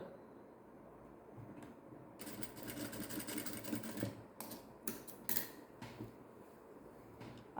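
A sewing machine stitches piping along a garment neckline, starting after a quiet moment and running in bursts of rapid needle clatter with short pauses between.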